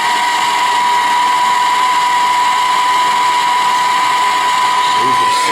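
A torch flame roars steadily while heating a soldered joint on copper pipe during a dishwasher plumbing job, a continuous broadband hiss with a steady tone running loud and close throughout.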